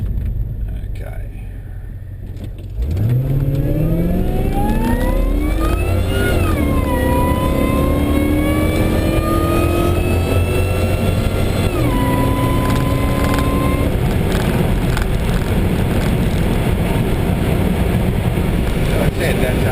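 Supercharged 5.0 litre Holden car accelerating hard at full throttle, engine note climbing steeply through first gear, dropping at a shift and rising again in second, loud and close under a speaking voice.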